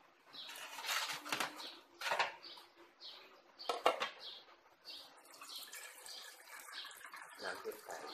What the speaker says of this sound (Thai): เทน้ำเอานิดหนึ่ง